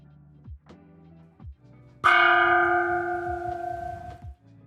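A gong alert on a live stream strikes once, loud and close, ringing out in a long shimmering decay after a few soft low thumps.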